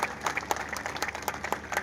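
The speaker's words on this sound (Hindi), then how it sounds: "एक बार जोरदार दोबारा से तालियां।" A crowd applauds a former irrigation minister at a Haryana political event, with steady, dense clapping and sharper individual claps standing out throughout.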